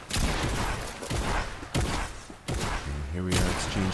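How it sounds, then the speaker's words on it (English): A Fortnite gunfire exchange plays as a run of loud, close shots with sharp broadband cracks every second or so. Game effects and a brief voice-like tone fill the gaps. "And here we are exchanging fire"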